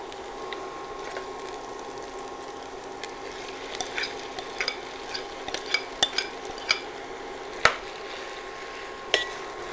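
Mashed potatoes are stirred into a sizzling pan mixture for Kerala-style beef cutlets, with a soft frying hiss under repeated scraping taps of a spoon against the pan, a few louder clanks standing out.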